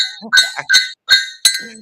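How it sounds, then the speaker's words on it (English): Heavy silver bars knocking together, giving bright ringing clinks about four times in under two seconds, loud and close, with no talk over them. "silver bars, clinking them?"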